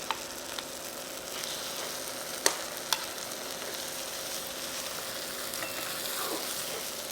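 Finely chopped chicken frying in masala in a pan gives a soft, even sizzle, with a few light clinks from stirring near the start and middle, fairly quiet and without talk.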